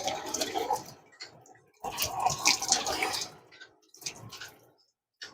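Water being poured over a body outdoors in bursts, splashing and drenching in three separate pours with quiet gaps between them.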